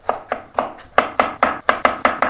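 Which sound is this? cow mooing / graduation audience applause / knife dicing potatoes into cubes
knife dicing potatoes into cubes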